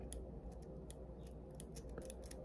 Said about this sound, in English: My eyelash curler needs WD-40.